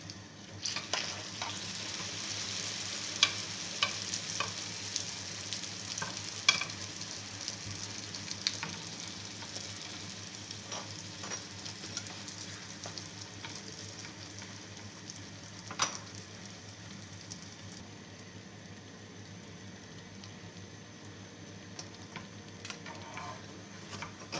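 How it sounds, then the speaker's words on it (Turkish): Continuous sizzle of frying oil with scattered pops and spits, steady and close, no voices. "her iki tarafını kızartacağız."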